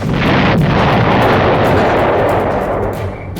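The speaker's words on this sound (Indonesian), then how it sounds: "itu menciptakan ledakan yang 2 kali lebih besar dan lebih mematikan daripada ledakan sebelumnya" A loud, sustained blast roars and rumbles continuously, a dense wall of explosive noise that fades slightly at the end.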